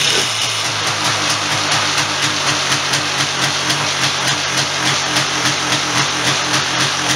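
A rebuilt 1996 Polaris Sportsman ATV engine idling close by, a steady loud rumble with an even pulsing beat throughout and slight rises in pitch, no voices over it.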